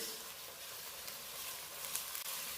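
Ginger and garlic frying in a pan for a bhuna chicken masala, a soft continuous sizzle with occasional light scrapes and clicks as it is stirred, faint and steady.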